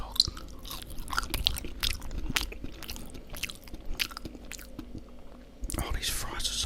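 Close, crunchy chewing and biting of fried chicken drumsticks and fries with gravy, with irregular wet crunches and smacks throughout.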